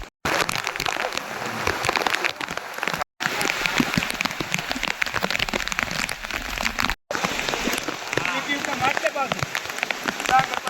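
Heavy rain pours steadily onto surfaces in a dense, close wash, interrupted by two short silent cuts.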